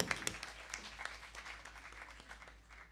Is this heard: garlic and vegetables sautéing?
no